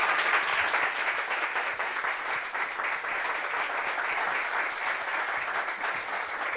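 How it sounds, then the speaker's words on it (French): Steady, full applause from a studio audience on a French television talk-show set, filling the whole stretch at an even level with no talk over it. "Applaudissements sérieux."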